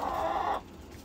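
Chickens cluck in a farm coop, a dense, fairly close burst of clucking for about half a second that then drops away to a quiet background.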